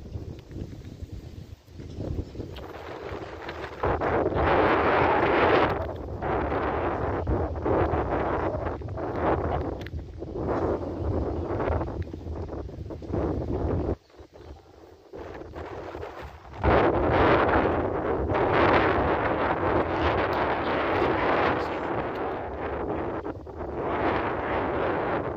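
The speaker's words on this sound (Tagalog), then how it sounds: "Lakas pa ng hangin." Strong wind at a large cemetery in Cebu buffets the microphone in heavy, continuous gusts, with loud roaring bursts that surge and briefly drop before rising again.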